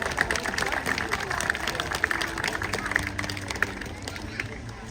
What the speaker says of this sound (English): I think she deserves another clap, everyone.